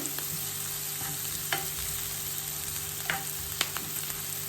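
Onions sizzle steadily in a pan of oil and butter, a soft continuous frying hiss with a few sharp clicks and scrapes from stirring.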